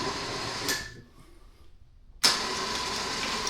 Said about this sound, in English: So I've manually extended the winch out, and now I'm going to give it a test.